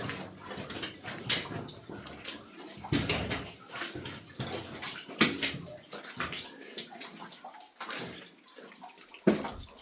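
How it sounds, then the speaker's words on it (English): Water seeps and trickles through the rock inside a wet underground slate quarry working, giving steady sloshing and splashing with louder bursts of dripping and movement throughout. "Mine's now getting quite wet from water percolating through the rocks."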